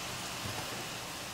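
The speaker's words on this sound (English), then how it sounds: "New Orleans rain." Rain in New Orleans falls as a faint, even hiss of drops for a brief moment, with nothing else standing out.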